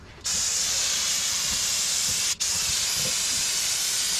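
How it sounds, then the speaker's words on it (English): Aerosol brake cleaner sprays in a loud, steady hiss on a 7.3 Powerstroke F250 during dipstick tube leak work, with a brief pause mid-spray before it resumes, no voices. "Get some brake cleaner."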